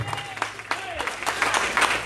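Church congregation in the Bronx applauding during a sermon, a loose patter of clapping with scattered voices and calls mixed in, building slightly toward the end.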